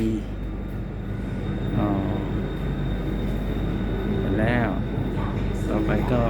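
Inside a BTS Skytrain in Bangkok at a station stop, a steady low rumble and hum fills the car while people talk over it throughout.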